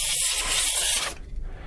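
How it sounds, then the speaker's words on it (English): Canned compressed air blasts into a laptop's intake vents in a loud, steady hiss lasting over a second, then cuts off abruptly, leaving faint low rumble. "the second thing you're going to do is spray out these intake vents here"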